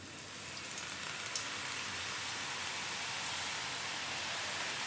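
Besan sev sizzles in hot oil in a kadhai, a loud, dense, steady frying hiss that stays continuous throughout with no voices.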